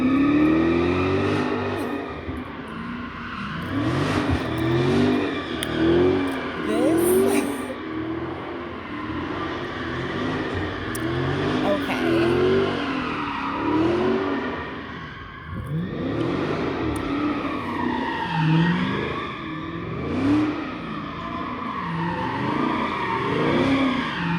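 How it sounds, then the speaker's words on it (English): A car doing donuts nearby, its engine revving and wavering in repeated surges while tires skid and squeal, loud and continuous with brief dips between passes. "Those are donuts."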